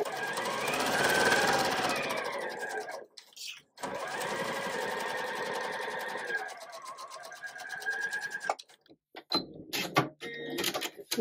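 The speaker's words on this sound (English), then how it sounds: "I'm just going to sew on both sides of the drawn lines." A sewing machine stitches a quilt block along drawn lines, running in steady whirring bursts of a few seconds each, broken by short pauses and handling clicks toward the end.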